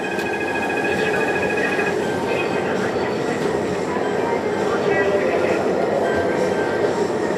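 A Meitetsu electric train pulling away in the Densha de GO railway game, a steady rolling rumble with faint whining tones. A voice speaks softly over it.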